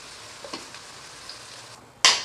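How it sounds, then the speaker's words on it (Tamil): Tomato paste hits browned onions in a hot pan, giving a quiet sizzle with a few soft stirring scrapes that ends in a sudden loud hiss as more goes in. "பேஸ்ட் போட்டுட்டு இந்த மாதிரி நல்லா வதக்கிக்கோங்க."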